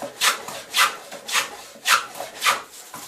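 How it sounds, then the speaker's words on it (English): A woodworking hand plane taking thick shavings off a board, six rhythmic rasping strokes about half a second apart, close and clear with no talking. "Now I'm taking off shavings which are quite thick."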